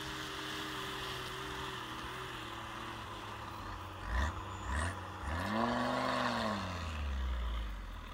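A Nissan Patrol off-roader ploughs through snow up to a meter deep, its engine holding a steady low drone before the revs rise and swell toward the end.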